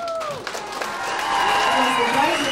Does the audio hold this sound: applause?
yes